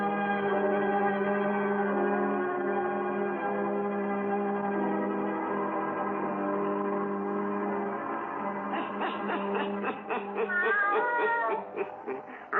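A black cat in an old radio horror drama meows with long, drawn-out wailing tones that turn into quavering, broken yowls near the end, loud and alone.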